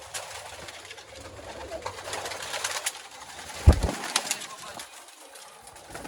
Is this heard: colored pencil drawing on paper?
no